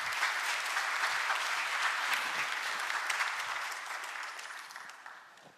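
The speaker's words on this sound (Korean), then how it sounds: "다시 한번 박수 부탁드립니다." Audience at a Korean government policy briefing on the five-year national agenda gives a dense round of applause, many hands clapping steadily before gradually fading out.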